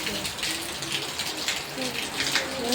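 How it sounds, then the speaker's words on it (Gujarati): Heavy rain falls in a steady broadband hiss with scattered splashes and drips, close and continuous throughout, with faint voices now and then beneath it. "બહુ જ વરસાદ છે"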